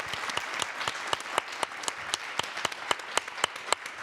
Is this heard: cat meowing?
no